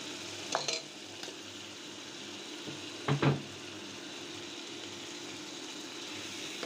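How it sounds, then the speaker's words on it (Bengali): Frozen tomatoes with turmeric and spices frying in a pan for a chicken curry, a steady soft sizzle throughout, broken by a few clinks and scrapes of stirring. "টমেটো আর মশলা একসাথে ভালোভাবে কষিয়ে নেব।"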